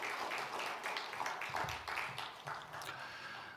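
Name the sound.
church congregation applause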